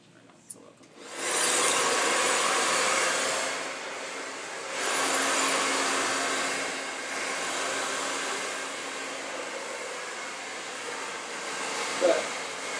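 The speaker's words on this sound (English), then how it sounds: "make sure that's how we're blow drying" Hair dryer blowing on very long hair during a blow-dry styling class, a steady close airy roar that swells and dips as the dryer moves, running continuously for about eleven seconds after a brief quiet start.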